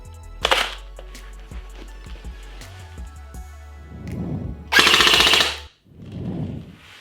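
A CSI S.T.A.R. XR-5 airsoft rifle fires close and loud: a short burst of rapid shots, a pause with light mechanical clicks and a low hum, then a longer full-auto burst.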